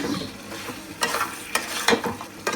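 Chicken fries in a pan for tehari, a steady sizzle with scraping stirs and brief louder spikes as the pieces are moved, close and continuous.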